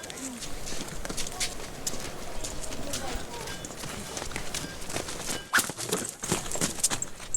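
Hooves of Bedouin children's donkeys clop at Petra in an irregular walking rhythm, light and fairly close, with voices talking over them throughout.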